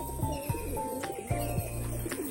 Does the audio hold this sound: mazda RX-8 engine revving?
no